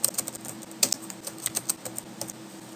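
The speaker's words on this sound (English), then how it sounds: "So here, I can type a comment," Comment being typed on a computer keyboard for a Laerdal SimMan simulator, a quick, uneven run of light key clicks close by, with no talking.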